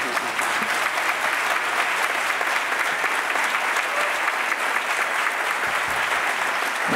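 Concert audience giving a round of applause, loud, dense and sustained clapping from a large crowd with no break for the full stretch.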